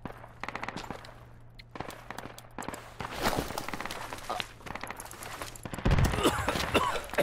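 Bursts of rifle and machine-gun fire in Project Reality, sharp rapid cracks in irregular volleys, some near and some farther off, with a steady hum underneath and heavier firing toward the end.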